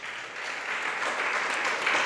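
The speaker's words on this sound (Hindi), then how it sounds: "तुम लोगों की ताली ऐसी धीरे धीरे बजती रही" A seated audience at a Jain monk's discourse in Itarsi clapping in a continuous soft patter, fairly quiet and distant, slowly swelling a little toward the end with no voices over it.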